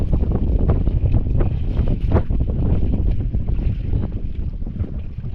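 Strong wind buffeting a small fishing boat out at sea, a loud steady roar with gusty microphone rumble throughout, no voices.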